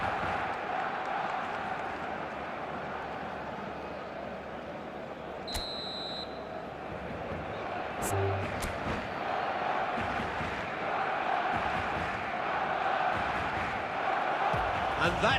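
A dense stadium crowd roars steadily throughout an eFootball match, a constant wall of cheering and chanting with a few short beeps and whistle-like tones cutting through.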